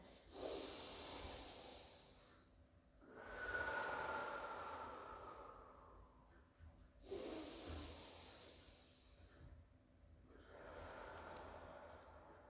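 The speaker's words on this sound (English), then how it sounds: "take some lovely, lovely deep in, out breaths" Slow, deep breaths in and out during a yoga child's pose, each long airy inhale and exhale swelling and fading in a steady rhythm, close and fairly quiet with no talking.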